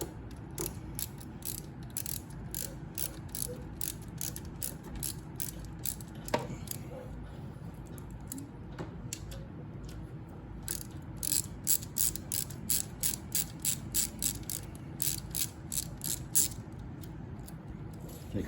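A hand ratchet loosens the single 8 mm radiator bolt on a Lifan KPR 200 motorcycle, giving bursts of rapid, crisp clicking close by, with short pauses between runs of clicks.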